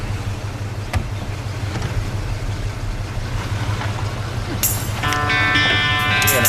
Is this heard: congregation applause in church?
no